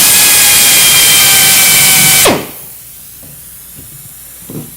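A high-speed drill with a roto bit cuts a hole in metal, screaming loudly and steadily for about two seconds before winding down, followed by a few faint clicks and taps.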